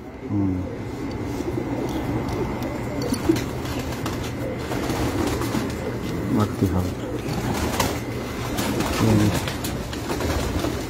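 Pigeons on a rooftop cooing repeatedly in low, throaty calls close by, with a steady background hum and occasional voices.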